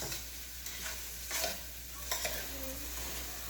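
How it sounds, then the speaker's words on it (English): Onion frying in a pan on a commercial ten-burner kitchen stove gives a faint, steady sizzle, with occasional stirring scrapes under a loud constant exhaust-fan hum. No one speaks. "we've got the onion cooking behind me."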